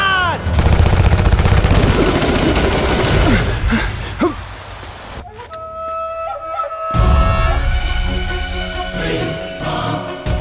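Gunfire in a Hindi action film scene, loud sustained volleys of shots mixed with music and effects, broken by a brief quieter stretch before the shooting and score pick up again.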